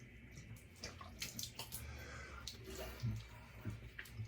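Steady running warm water from a tap for a post-shave rinse, a continuous hiss with a few louder splashes and drips near the end.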